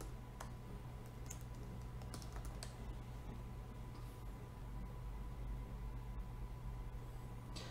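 Login password being typed on a computer keyboard, a run of quick, fairly soft keystroke clicks over a steady low background hum, with no talking.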